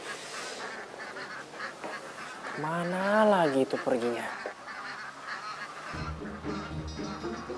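A duck pen erupts in loud, overlapping honking quacks, one call rising sharply in the middle, while someone speaks nearby before and after the racket.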